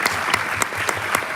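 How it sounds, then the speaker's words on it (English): An audience at a town hall meeting on fighting gender-based violence claps for the mayor, a handful of sharp, irregular hand claps heard close over a steady room background. "I'll clap for her"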